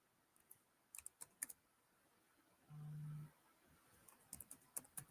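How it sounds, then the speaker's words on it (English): Keystrokes on a computer keyboard as a new email is typed, quiet scattered clicks in short bursts separated by a pause with a brief low hum, close and faint, with no talking. "It's a new email I'm typing in"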